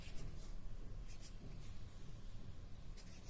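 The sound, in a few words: writing on paper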